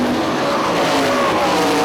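Sprint cars roar loudly around a dirt oval at Hartford Speedway Park, a continuous dense engine blare with a tire-scrub edge, close and constant throughout without any talk.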